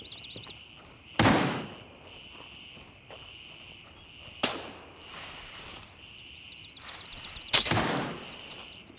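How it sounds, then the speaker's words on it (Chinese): Gunfire in the video game Gray Zone Warfare, with a few sharp, loud shots spaced several seconds apart over a steady background hum and footstep-like movement sounds. "后面这边有枪声是不是"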